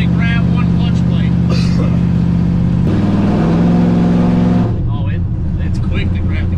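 Loud, close drone of a burnout truck's engine as it drives and shifts through a built transmission, steady pitch dropping as a gear change comes through, then the engine settles lower.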